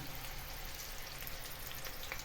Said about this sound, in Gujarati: હવે થવા દઈએ, ધીમે ધીમે તળતા જઈએ.